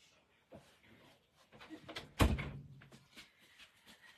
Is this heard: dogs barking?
no